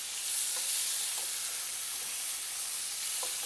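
Shrimp cook in a pan with a steady, hissing sizzle at moderate volume, broken by a few faint ticks.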